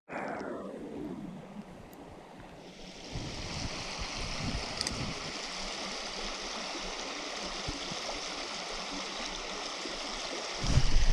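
A shallow trout stream in a snowy setting flows with a steady broadband rushing and gurgling close by, continuous and fairly loud, with a brief voice at the start and a louder splash near the end.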